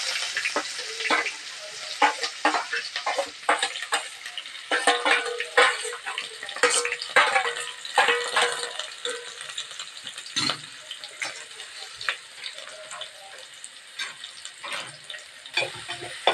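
Mustard seeds and small onion fry in a pan, a steady crackling sizzle broken by sharp pops and stirring scrapes, close and fairly loud with no talk.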